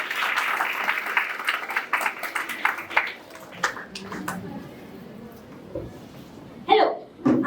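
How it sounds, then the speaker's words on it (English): Applause from an audience at an interschool debate competition starts loud, then thins into scattered claps that fade, with voices talking and a few sharp bursts of noise near the end. "Guys, please have a huge round of applause for them."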